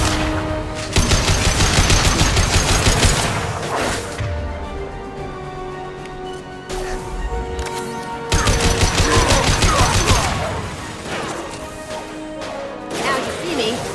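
Dense bursts of rapid gunfire in Mass Effect 2 fill most of the stretch, loud and sustained, with one lull midway before another heavy volley. Game sound effects mix in.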